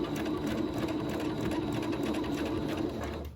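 A sewing machine runs steadily, stitching over a buttonhole on a man's shirt being upcycled. The motor whirs with a dense, continuous stitching rhythm, close and fairly loud, and slows near the end.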